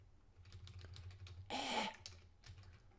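Light typing on a computer keyboard, soft scattered key taps at close range with a brief louder burst of clatter in the middle.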